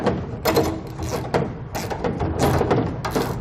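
Ratcheting and metal clicking while a spare tire is reinstalled under a 2012 GMC Sierra pickup, a run of close, busy mechanical clatter and ratchet strokes with no talk.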